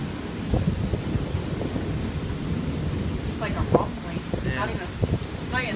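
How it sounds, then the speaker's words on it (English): Low thunder rumbles through a rainy outdoor scene, a soft continuous rolling murmur with patter of rain, while birds chirp faintly and people talk briefly in the background. "it's just rumble, it's not booms or anything, it's just rumble"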